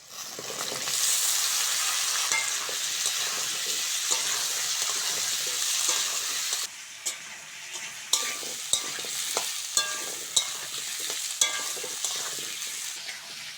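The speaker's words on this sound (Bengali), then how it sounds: "আলু আর পেঁয়াজটা ভালো করে ভেজে নিয়েছি" Potatoes and onions fry in oil left over from frying fish, giving a steady loud sizzle. About halfway through the sizzle drops, and sharp spoon scrapes and stirring knocks sound at regular intervals.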